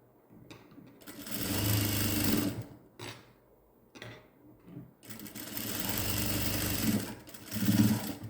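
A sewing machine stitches the shoulder seam of a newborn baby's gown in two long, loud, steady runs of rapid mechanical whirring, separated by short pauses and lighter handling clicks, with no talk.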